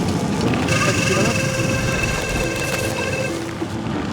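Steady rain hisses and patters nearby during a gravel bike ride, a continuous wash of sound with a faint low rumble beneath.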